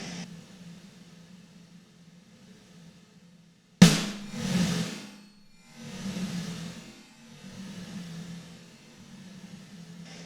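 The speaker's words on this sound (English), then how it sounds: "So you can hear that's kind of echoing it now" Eventide Blackhole reverb on a reverse, minus-gravity setting: a sudden loud burst that swells and smears into long washy echoing tails, gradually fading over a low sustained hum.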